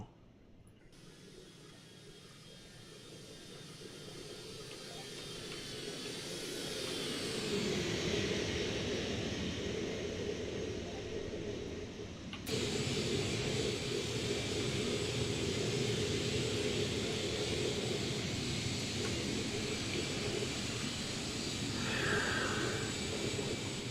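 The stock engine sound of an Airbus A321 in the X-Plane 11 flight simulator starts as a low rumble, swells into a steady broadband roar, and holds at a continuous high level, with no talk.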